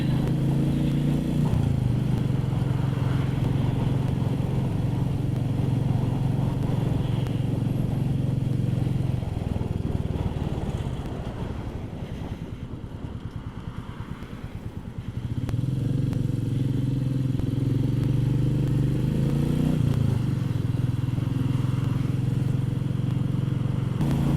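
A Royal Enfield Meteor 350 motorcycle out on a sunny winter ride, its engine droning loud and steady with wind rush, easing off briefly midway before pulling strongly again.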